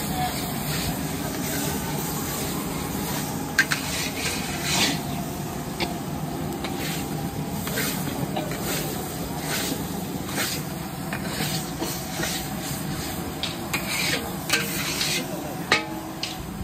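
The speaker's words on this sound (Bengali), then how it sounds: "ওখানে লাড়া দিয়ে মিলাই লই মশলাটার লগে পেঁয়াজটা বাজা বাজা হইব" Onion fries in a pan with spices while being stirred, giving a steady sizzling hiss dotted with scraping stirs throughout, and someone talks over it.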